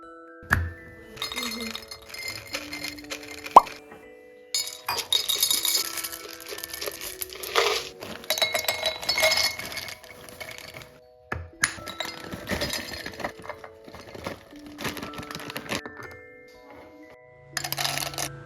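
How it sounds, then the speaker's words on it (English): A set of six clear glass kitchen jars with airtight lids clinks and taps as they are handled, sharp bright knocks and rings scattered between quiet gaps, close and moderately loud. "These are basically airtight glass kitchen jars, and it is actually a set of 6."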